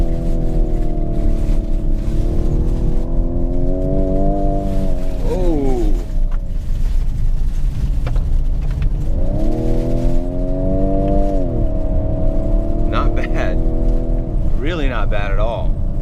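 A 2019 Ford Edge ST all-wheel-drive SUV drives through damp corners, its engine note droning steadily and rising and falling in pitch with the throttle, with cabin and road noise underneath and some talk on top.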